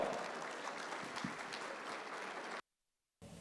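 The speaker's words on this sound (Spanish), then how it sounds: "Fuerte aplauso, por favor." An audience at an international medical symposium gives sustained, dense applause, loud and even, which cuts out abruptly near the end before resuming faintly.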